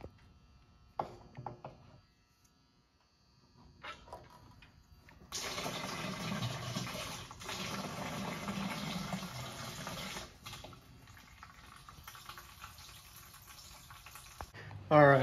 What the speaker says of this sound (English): I'm gonna drain the fuel cell into these jerry cans.